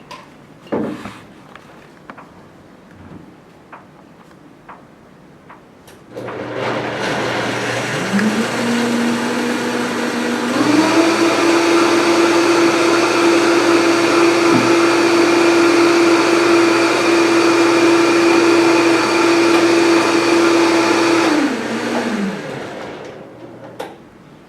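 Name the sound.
blender mixing almond milk smoothie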